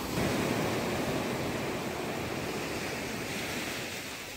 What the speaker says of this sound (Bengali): মোটামুটি ভালোই ঢেউ আছে এখন